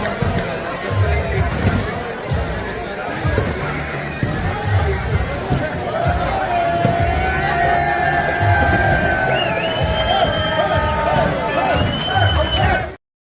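A crowd at an outdoor box lacrosse tournament during handshakes fills the air with steady murmuring chatter, scattered shouts and light cheering, with nearby voices talking over it before it cuts off.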